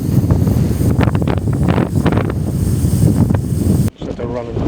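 Strong outdoor wind gusting at around 20 mph buffets the microphone in heavy, roaring rushes, loud and continuous, with a brief break near the end.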